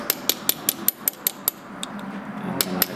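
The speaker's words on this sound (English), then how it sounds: "So what I do is I take a little chisel." A small chisel is struck with a hammer to flatten the lock tabs on a castle nut in a Silver Cloud II steering box, giving about nine quick sharp metallic taps in a steady rhythm, close and loud, then two more after a short pause.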